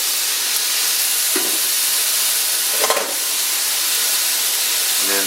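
Vegetables for yakisoba sizzling in a cast iron pan, a loud steady hiss throughout with a few brief clinks and scrapes from stirring.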